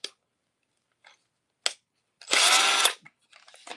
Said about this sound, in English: We're going to run this M18 half-inch brushed drill driver.